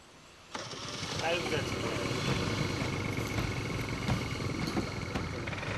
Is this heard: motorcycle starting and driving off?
yes